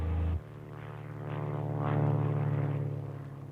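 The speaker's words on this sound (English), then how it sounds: "You'll get your first flying lesson in this military version of the Cessna 172." Steady propeller drone of a Cessna 172 in its Air Force T-41 military trainer version, a strong low engine tone with harmonic layers, briefly louder at the start, then swelling and easing in a continuous hum with no speech.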